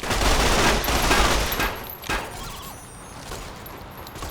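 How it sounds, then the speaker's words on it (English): Sustained full-auto gunfire in Fallout: New Vegas, loud and close with dense overlapping bursts in rapid succession, easing off briefly partway through and then continuing more quietly. "Just fire from the hip, full auto."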